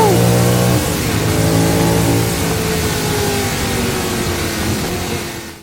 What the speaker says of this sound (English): It's Bruce McLaren's first championship winning car.